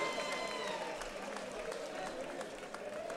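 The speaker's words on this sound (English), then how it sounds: "I want to give both of these fighters a round of applause because they are Arizona's best" A boxing event crowd gives applause and cheers for two fighters, a dense, continuous wash of clapping with a voice speaking over it.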